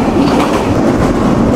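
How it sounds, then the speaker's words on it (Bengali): A Sagardari Express intercity train hauled by a 63-series broad gauge locomotive rumbles along, its wheels clattering in a loud, steady roll close by. "আমাদের আন্তনগর সাগরদাড়ি এক্সপ্রেস, এবং আমাদের ট্রেনের সাথে রয়েছে অত্যাধুনিক 63 সিরিজের ব্রড গেজ লোকোমোটিভ"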